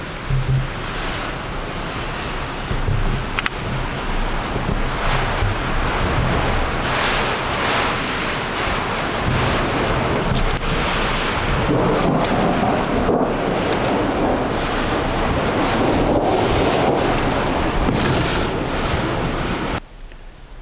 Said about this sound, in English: Watch that storm come across the valley, and it hit me like nothing else. I mean, thunder, lightning, rain,